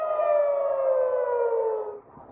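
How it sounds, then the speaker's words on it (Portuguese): An air raid siren sounds in Israel with a loud, steady wailing tone that slowly falls in pitch and then cuts off near the end. "As sirenes começaram a soar de madrugada em Israel"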